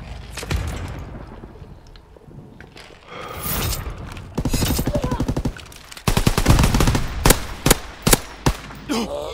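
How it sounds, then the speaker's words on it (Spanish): Rapid automatic gunfire and single shots from a first-person shooter video game in search-and-destroy mode, coming in dense bursts that grow louder and more frequent toward the end. "te dio tres tiros con la corta"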